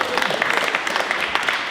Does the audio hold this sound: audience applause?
yes